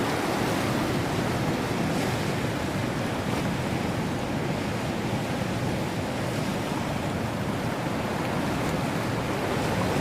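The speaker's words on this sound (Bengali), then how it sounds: "এদিকে এই যে বাতাস, এত ব্রিজের বাতাস" Strong cyclone wind roars over a river near a bridge, a loud, unbroken rush of noise buffeting the microphone with no voices.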